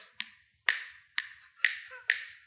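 Five sharp finger snaps ring out alone at a steady, unhurried rhythm, each crisp crack followed by a short fading tail, close and fairly quiet with silence between them.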